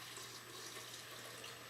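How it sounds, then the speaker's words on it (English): Steady stream of water poured into a blender for a green smoothie, a continuous even splashing rush lasting a couple of seconds with no talk. "Okay, and then I'm going to add the liquid. So this recipe calls for 2 cups of water."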